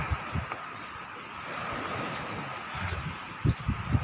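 Strong west-monsoon wind on an overcast road toward Karang Ranjang, a steady broadband rush with gusty buffeting against the microphone and a few low thumps near the end, no voices.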